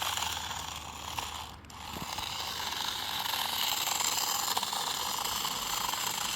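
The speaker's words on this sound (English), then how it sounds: "I can hear the plastic tires just scraping." A cheap plastic-tired RC drift car scrapes and skids across the ground, a steady rough hissing rasp that runs continuously near and fairly loud, with a brief dip partway through.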